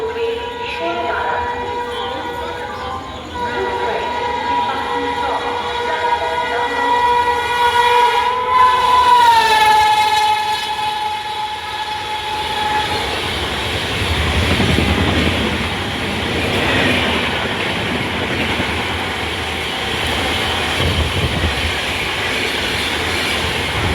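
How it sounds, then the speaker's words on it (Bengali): Up 13157 Kolkata–Muzaffarpur express passing through platform 3 at Belgharia station, a loud horn blast with harmonic tones followed by the heavy, sustained rumble and rattle of coaches rolling past close by. "up 13157 Kolkata two Muzaffar junction টি রুট এক্সপ্রেস বেলঘরিয়া 3 নম্বর প্ল্যাটফর্ম থেকে পাস"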